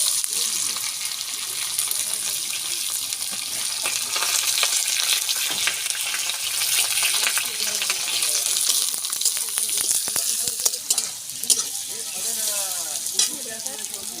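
Carrots frying in a pan with bay leaf and whole garam masala for fried rice, a steady loud sizzle throughout with occasional clinks and scrapes.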